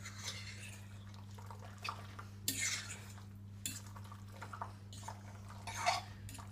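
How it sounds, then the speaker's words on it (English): A fork stirring pasta into sauce in a baking dish for a tuna pasta bake, soft wet squelches and faint scrapes in a few short bursts, quiet and close over a low steady hum. "mix that, stir it up with your fork to get all of the pasta coated"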